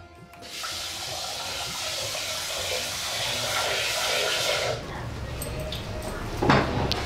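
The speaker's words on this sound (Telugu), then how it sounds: "ముందుగా 1 కుక్కర్ తీసుకుని అందులో బియ్యం వేసుకుని శుభ్రంగా కడుక్కోవాలి." Tap water runs steadily into a pressure cooker as rice is washed in it for payasam, a continuous hiss that stops partway, followed by lighter splashing and a small clink.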